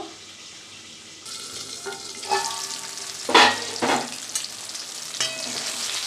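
Pieces of boal fish fry in hot oil in a pan. The sizzle starts low and then swells, with clattering stirring and turning sounds and a few sharp spitting bursts over a continuous close crackle, and nobody speaks.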